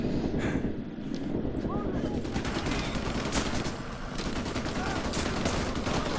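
Dense, continuous gunfire from the video game MW2 Campaign Remastered crackles at close range, layered rapid shots over heavy rumbling battle noise with no pauses.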